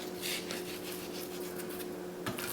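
Salt and a homemade spice rub of paprika, garlic, onion powder, oregano and thyme rubbed by hand onto raw sirloin steak, a steady close rasping friction with a brief scrape near the end, no talking.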